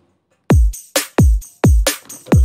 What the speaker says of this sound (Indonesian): kick snare sama tamborin jadinya seperti ini